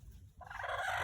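A broody hen on a rural farm gives a short, harsh, rising cluck close by, loud against a quiet yard.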